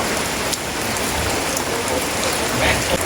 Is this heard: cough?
no